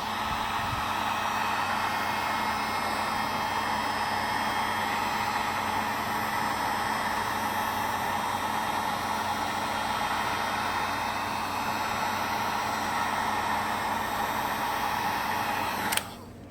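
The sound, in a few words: heat gun heating thermoplastic sheet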